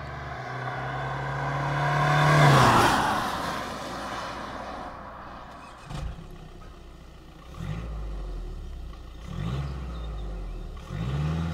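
A 2020 Audi A3 Sportback 30 TDI diesel engine, heard from outside while stationary, rises in one strong rev and then gives several shorter blips that fall back to a low idle between them.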